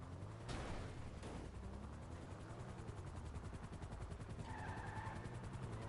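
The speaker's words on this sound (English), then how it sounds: "I'm going to have to listen for the sound of the helicopter" Steady helicopter rotor thumping over a dense, rumbling soundscape in a PS5 video game, continuous throughout, with a faint tonal whine appearing near the end.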